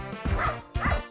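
Two sharp, close dog barks from the Soccer Kid video game, each a yappy bow-wow with a whiny tail, spaced about half a second apart.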